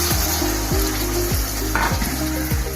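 Mutton pieces hitting a hot pan for biryani give a steady, fairly loud sizzle and crackle that runs throughout, with a low tonal line underneath.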